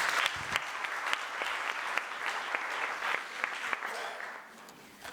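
Audience applause at a university humanities panel on women leaders, a fairly faint, even burst of many hands that trails off toward the end.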